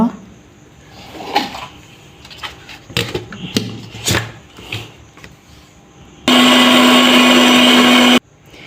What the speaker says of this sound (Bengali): এখন আমি একটা ব্লেন্ডারে এগুলো দিয়ে ব্লেন্ডার করে নিব